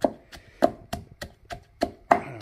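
Fresh ginger pounded with a wooden pestle gives seven sharp wooden thuds at an irregular, roughly steady pace, close and distinct with no talking.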